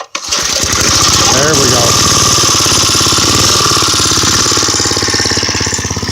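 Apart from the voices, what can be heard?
Briggs & Stratton engine on old bike being pull-started and running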